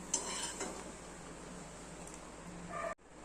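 A cooked thuvaiyal omelet lifted from the pan and laid on a plate, with a soft clatter of utensil and dish at the start and a brief scrape near the end over a low kitchen hiss, no talking.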